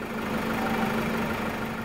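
A Toyota Hilux 3.0 engine idles steadily during an engine flush, giving an even, close mechanical hum with no voices.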